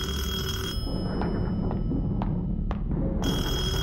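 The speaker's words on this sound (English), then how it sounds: "after we answer this phone, we're gonna end it." An old telephone bell rings in the Taiwanese horror video game Detention, loud metallic trilling bursts at the start and end, separated by a quieter stretch with low rumbling ambience and faint clicks.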